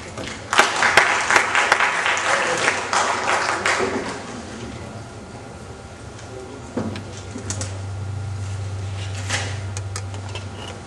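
Strong applause from a seminar audience welcoming a speaker at an arbitration event, loud for about four seconds, then thinning to scattered claps with a low hum and faint background noises.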